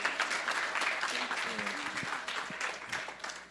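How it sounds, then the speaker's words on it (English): An audience at a Sunday feast applauds for Jagdish, steady moderately loud clapping that carries on for several seconds, with a few voices audible beneath it. "So please give a big round of applause to Jagdish."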